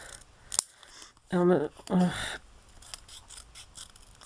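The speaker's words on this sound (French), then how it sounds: "on m'a redemandé la marque de mes ciseaux. Donc ceci c'est du Tamiya Craft Tool" Tamiya Craft Tool scissors snipping paper for scrapbook frame embellishments, a few close crisp cuts and clicks between brief spoken words.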